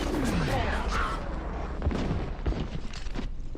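Explosions in the video game F.E.A.R.: a dense, continuous roar of booming blasts and rumbling gunfire, loud and sustained throughout, with occasional sharper bursts.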